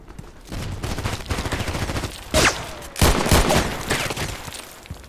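Revolver shots from a Colt Python Elite in the shooter game Contract Wars: two sharp, loud bangs about half a second apart, each trailed by rumbling game noise and continuous background battle sounds.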